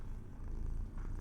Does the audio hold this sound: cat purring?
yes